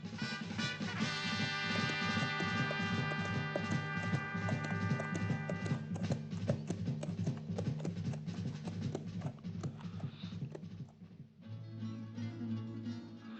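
Arab horse hooves clip-clop in a steady rhythmic gait, blended under a loud orchestral music bed that carries through to the end.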